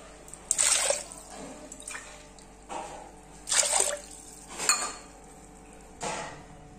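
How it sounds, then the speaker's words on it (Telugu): Water being poured onto toor dal in a pot comes in several separate splashing bursts, each a second or so long, with quieter pauses and faint clinks between them. "దీంట్లో 1 గ్లాసు కందిపప్పు వేసాను కదా, 3 గ్లాసుల వాటర్ పోస్తున్నా"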